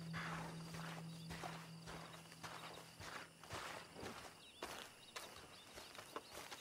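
Horse hooves clip-clop in Red Dead Online, a quiet, uneven run of soft hoof strikes with faint background ambience and no speech.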